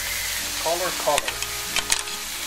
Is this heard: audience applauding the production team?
no